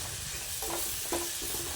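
Avarekalu tomato gojju stirred in a pan, a steady close sizzle of frying with soft scraping strokes of the spoon running through it, and no voices.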